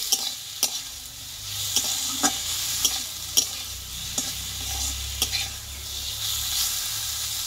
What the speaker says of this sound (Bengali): 4 থেকে 5 মিনিট মতো আমি শাকটাকে ভেজে নেব